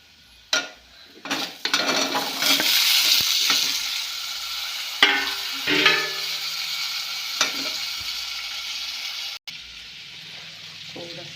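Potato stirred into a sizzling pan mixture, loud steady frying with repeated spatula scrapes and clinks against the pan, close up and without speech.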